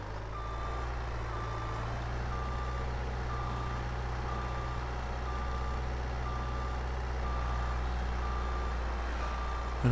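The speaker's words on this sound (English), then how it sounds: "And so then we can get our skid steer unloaded." Steady, evenly spaced reversing beeps from a truck unloading a skid steer in a logging video game, repeating over a constant low engine drone with no talk.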